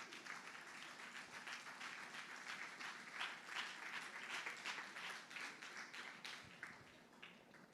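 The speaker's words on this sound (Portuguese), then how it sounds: "Dá uma salva de palmas para Jesus." A church congregation standing to applaud during worship, steady dense clapping from many hands filling the room for several seconds, fairly distant and even in loudness.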